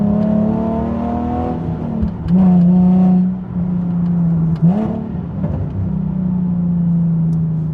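A Nissan 370Z engine blipping its revs on rev-matched downshifts, with a loud steady drone broken by two sharp rises and falls in pitch, heard close from inside the moving car.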